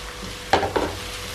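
Onions hit hot oil in a pan, giving a quick pair of sizzling, scraping stirs against a soft steady frying hiss, close and brief.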